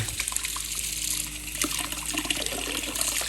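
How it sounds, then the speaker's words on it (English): Water rushes steadily through a trumpet being rinsed during cleaning, a continuous splashing gush with no pauses and no voices. "dip it in the water and flush water through it until it runs out clear"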